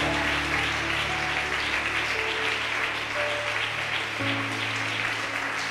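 A congregation claps during a Spanish-language church service, a steady wash of applause with sustained musical tones underneath.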